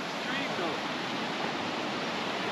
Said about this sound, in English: We did some exploration and we found our own waterfall.